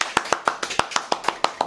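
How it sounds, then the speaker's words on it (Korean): Sharp, evenly spaced hand claps, about ten in quick rhythm, close and fairly loud with nothing else behind them, welcoming a guest onto a Korean personal-finance talk show. "자, 먼저 박수로 환영하도록 하겠습니다"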